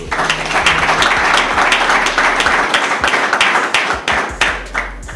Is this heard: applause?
yes